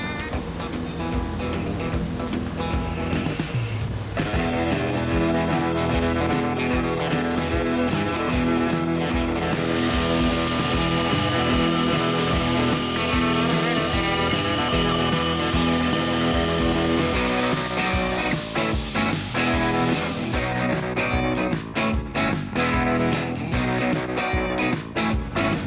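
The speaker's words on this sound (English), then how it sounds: "The clamping cauls are milled from sheets of phenolic at a CNC gantry." A CNC gantry mills phenolic sheets into clamping cauls, a continuous loud machining whine and grinding with shifting pitch and cutting texture, the tone changing partway through as the cut progresses.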